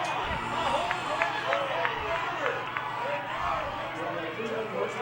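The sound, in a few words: spectators cheering at a softball game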